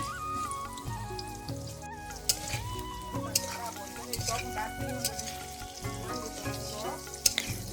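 Potato pieces fry in hot oil for a home-cooked festive Bengali meal, giving a steady sizzle with occasional stirring clatter, half-buried under continuous background music.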